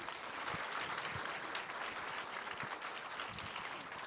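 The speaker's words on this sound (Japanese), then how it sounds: "今一度大きな拍手をお送りください" Broad, even audience applause for the cast and director at a Japanese film premiere stage greeting, a dense continuous wash of clapping heard from some distance and fairly quiet.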